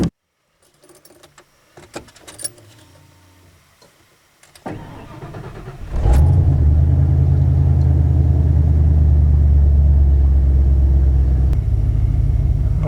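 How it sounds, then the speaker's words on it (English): A cold car engine, just fitted with a new PCV valve, starts after some clicks and key jingles, cranking briefly before catching and settling into a loud, steady, close rumbling idle that holds to the end without talk. "I'd say it's idling about the way it did when it was cold last time"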